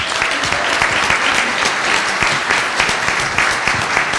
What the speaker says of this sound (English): So again, let's give them another round of applause